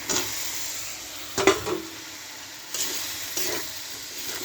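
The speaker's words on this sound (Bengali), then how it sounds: "দিয়ে মশলাটা করে এখন ভাজছি" Spice paste sizzles and fries in oil in a pan, with intermittent louder bursts of stirring and scraping; no voices.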